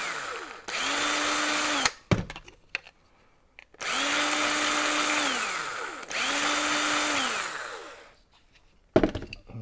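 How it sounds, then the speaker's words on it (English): A power drill cleaning out bolt holes in a 3D printed part: three high-pitched whining bursts of a couple of seconds each, ramping up and down, separated by clicks and handling noise. "Take a drill, clean these holes real quick."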